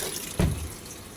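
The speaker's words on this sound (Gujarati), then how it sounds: "કપડાં ધોવા નાખે છે મશીનમાં ગાઈઝ." Water running into a washing machine loaded with clothes for washing, a steady faint trickle with a brief louder gush partway through, heard alone without talk.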